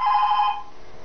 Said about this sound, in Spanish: Y los teléfonos suenan.